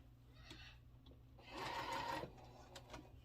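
A sewing machine stitches quilt block pieces of half square triangles in a short burst of fast, buzzing whir lasting under a second, quiet and close, with light handling clicks before and after.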